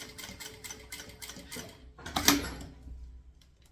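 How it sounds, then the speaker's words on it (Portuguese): A sewing machine topstitches along the edge of a thermal bottle bag in quick, rhythmic bursts of needle clatter, pausing briefly with a sharp click before a softer final run, heard close. "vira aqui na beiradinha, pesponto de beiradinha"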